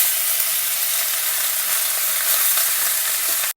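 Cooked millet sizzles in hot oil with golden-browned dals and a pinch of turmeric, giving a steady, loud frying hiss throughout with faint stirring scrapes.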